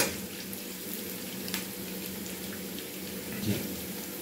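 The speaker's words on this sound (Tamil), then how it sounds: "உடச்சி விட்ட முந்திரி போடுங்க. அப்போ தான் நல்லா வந்து ஃப்ரை ஆகும்" Broken cashew nuts frying in oil for ven pongal: a steady, close, fine sizzle with a soft hiss throughout, a faint clink near the end, no talking.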